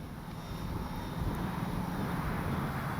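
A HobbyZone Carbon Cub S2 RC plane flies in windy conditions, its faint, distant engine buried in a steady wash of wind noise.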